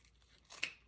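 A single quiet snip of regular scissors cutting through material for a wreath, short and close.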